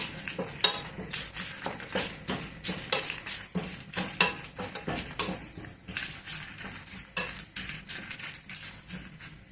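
Split urad dal and cumin seeds roasting in a pan for carrot chutney, heard as repeated scraping and clattering stirs over a light sizzle, close and uneven in rhythm, with no voices.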